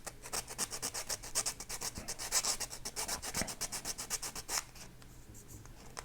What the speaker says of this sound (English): let me get some 220 here and just sand this